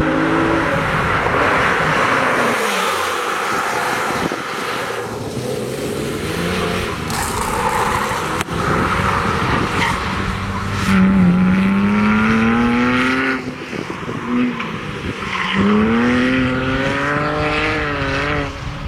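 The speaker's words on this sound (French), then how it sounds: "Et au gaz, elle peut entamer une petite dérive." A Porsche GT3 sports car drifting through a hairpin, its engine roaring loud and close with rising and falling revs as it accelerates, brakes and slides through the bend.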